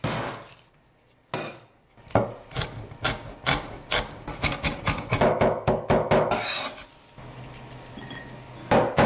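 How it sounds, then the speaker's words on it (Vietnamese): Onions being minced with a knife on a cutting board: a steady run of sharp, close chopping taps in quick rhythm, with a short pause before the chopping resumes and grows denser. "Đầu tiên thì mình băm nhỏ hành này ra."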